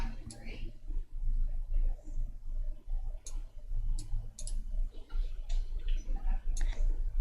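A computer mouse clicks while someone works in the Lightworks video editing software, several sharp faint clicks spread out under quiet talking.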